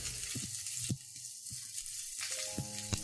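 Sliced onions sizzle in hot oil in a wok with soft crackling, punctuated by several sharp clanks and scrapes of a utensil against the wok.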